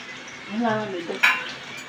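Oil sizzles as spices hit a hot pan for tempering, with stirring and a sharp metallic clink of a utensil partway through.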